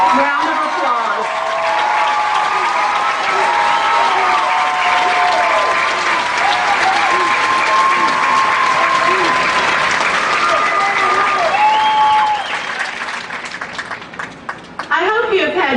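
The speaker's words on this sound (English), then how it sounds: "Let's give them a round of applause." Sustained applause from a high school graduation audience, loud and steady for about twelve seconds before tapering into scattered claps; music or tonal sounds run beneath the clapping.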